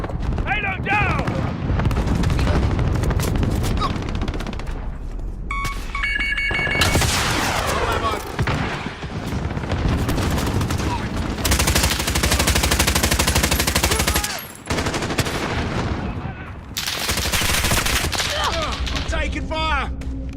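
Heavy automatic gunfire and explosions from Call of Duty Modern Warfare 2019 multiplayer, loud continuous bursts with short breaks, mixed with voices talking beneath the shooting.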